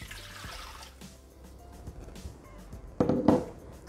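Water poured into the jug of a Thermomix TM6 food processor while preparing pesto focaccia dough, a short splashing pour rising near the end over a quiet kitchen background.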